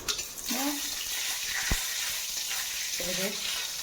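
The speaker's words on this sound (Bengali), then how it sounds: "আর একটা শুকনো লঙ্কাও ফাটিয়ে দিলাম" Dried chili and five-spice crackle and sizzle in hot oil during simple home cooking, a steady, close frying hiss with scattered pops, while faint voiced sounds drift in briefly.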